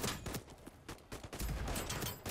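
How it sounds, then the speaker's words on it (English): Gunfire in the video game Voidtrain: a quick series of sharp shots in irregular bursts, fairly close, with no talking over it. "They're shooting me too much."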